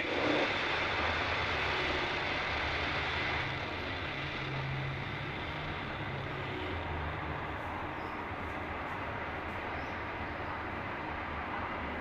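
A SpaceX Falcon 9 carrying Starlink satellites rises from Space Launch Complex 40 at Cape Canaveral, Florida, its engines a broad, steady distant roar with deep rumble, slowly easing in loudness, no voices heard.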